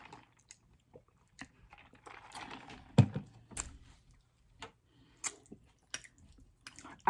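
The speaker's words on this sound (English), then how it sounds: "Is this leaf of this lettuce a nice little crunch factor" Crisp, crunchy bites on a fresh lettuce leaf eaten during a spaghetti meal, heard up close as a string of sharp, irregular crunches and chewing sounds separated by quiet pauses.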